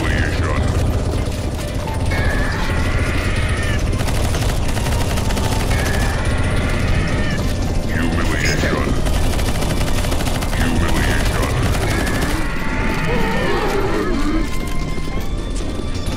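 Constant gunfire keeps hammering at a boss on a CS:GO zombie escape map, a loud dense stream of shots with voices talking over it.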